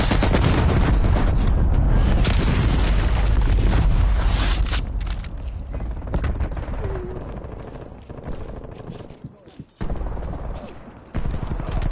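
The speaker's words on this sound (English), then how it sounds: "Enemy cruise missile launch detected." Cruise missile strike explosions in a Call of Duty hardpoint match, loud rumbling blasts and gunfire layered into a dense barrage that later breaks into separate bursts and short gaps.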